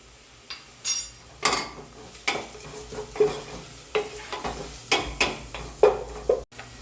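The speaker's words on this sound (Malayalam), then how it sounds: "സവാള നന്നായിട്ടൊന്ന് വഴറ്റാം മീഡിയം ഫ്ലെയിമിൽ വെച്ചിട്ട് വഴറ്റാം" Sliced onions sautéed with salt on medium flame for a raw jackfruit curry, with a spoon stirring in distinct scraping strokes about once a second over a soft, close sizzle and no talking.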